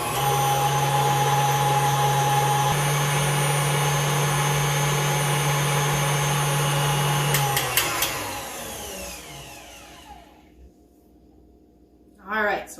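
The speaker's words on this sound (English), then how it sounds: "Now we'll give it one more big mix" Electric mixer beating blueberry muffin batter, a loud steady whirring drone that runs for several seconds, then winds down and stops, followed by a brief clatter.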